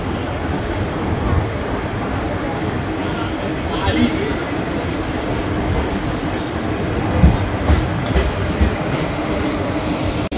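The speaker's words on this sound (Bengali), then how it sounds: "আমাদের ট্রেন বাগনান স্টেশন থেকে ছাড়লো।" A Digha special train pulls out of Bagnan station's platform 4, with a steady loud rumble of wheels and carriage noise throughout and brief higher squeals, heard from inside a general class coach.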